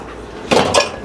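A metal pan is picked up and set down in a home kitchen during chicken adobo prep, giving two quick clanks close by in a short burst.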